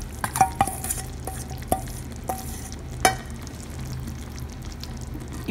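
Leftover stuffed masala going into a pan of frying stuffed eggplant, with a soft background sizzle and several sharp clinks and scrapes of a spoon against the pan at irregular intervals, close and moderately loud, no talking.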